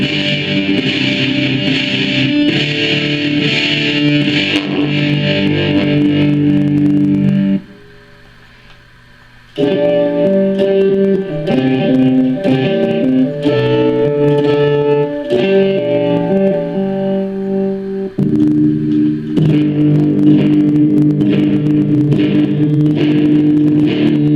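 A Boss ME-25 multi-effects pedal drives an electric guitar into extreme distortion, loud buzzing chords and sustained notes with a brief near-silent gap partway through, then more heavy riffing alone without voices.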